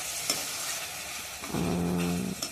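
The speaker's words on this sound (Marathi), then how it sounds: "तर आता मग यात शिमला मिरची टाकायची बारीक केलेली." Finely chopped bell pepper hits a hot pan with a sudden loud sizzle, while a spoon scrapes and stirs up close. A brief tonal squeak rises partway through, with no talking.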